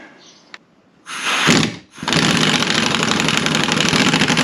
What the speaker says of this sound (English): It's just a strong impact wrench, and I'm going to loosen these.